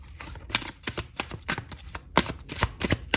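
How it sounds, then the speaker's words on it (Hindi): Tarot cards being shuffled by hand: a quick run of crisp, close riffles and slaps in an uneven rhythm, loud and alone with no talking. "फिर से ही शफल कर लूंगी मैं एक बार"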